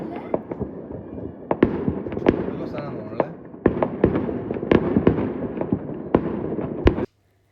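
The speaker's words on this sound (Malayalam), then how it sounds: "അപ്പോൾ നമ്മളിത് നമ്മുടെ വീട്ടിൽ നിന്ന് കാണുന്ന ഫയർ വർക്കാണ് കേട്ടോ" New Year fireworks in Switzerland, watched from home: dense, continuous crackling with many sharp bangs and pops, some near and loud, others distant, going on steadily throughout and stopping abruptly near the end.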